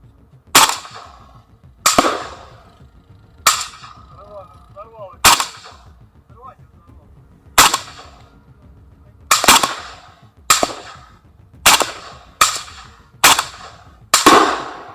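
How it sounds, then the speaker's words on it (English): Light weapons fired remotely at a PTM-3 anti-tank mine, about a dozen sharp, loud individual shots at irregular intervals, each ending with a short decaying echo. "The federal commander's crew destroyed the mine by remotely firing light weapons at it."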